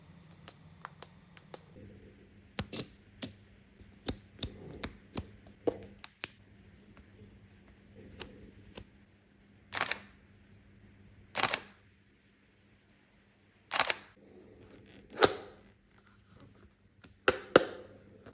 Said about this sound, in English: I really like the dials. They've got a, if the microphone will pick them up, a very nice clickiness.